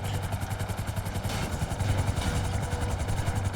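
Helicopter in a video game flying steadily, its rotor chopping in a fast even rhythm over a low engine drone, loud and close with no talk.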